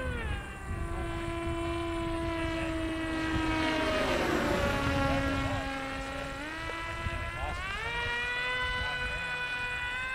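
A BadAss 2826-1360KV brushless motor screams through a speed run with a loud, steady high-pitched whine that sweeps up and down in pitch as the throttle changes, with faint voices underneath.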